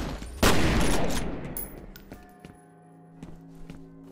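A burst of gunfire from police enemies in the shooter game F.E.A.R., a loud close volley that decays, followed by scattered lighter taps and footstep-like clicks.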